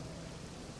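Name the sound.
rain falling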